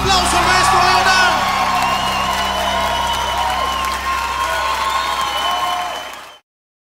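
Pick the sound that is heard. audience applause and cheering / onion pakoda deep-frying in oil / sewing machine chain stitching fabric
audience applause and cheering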